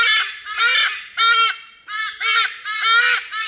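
Large birds at the Philippine Eagle Center in Davao give loud, harsh, crow-like calls, about six rasping bursts in quick succession, close and clear with no talk over them.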